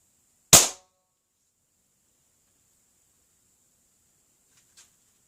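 Single sharp crack of a Crosman 2240 air pistol fired after a hammer spring modification, one loud close report in near silence, followed much later by a faint tiny click.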